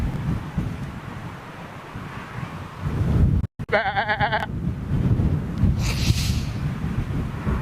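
Sheep bleating close by in an open field, a couple of short wavering calls over steady wind rumble on the microphone.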